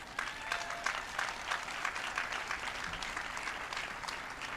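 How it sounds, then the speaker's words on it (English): Faint, steady applause from an audience of adults, a dense even patter of many hands that carries on throughout without a break. "you guys clap it up if you want to"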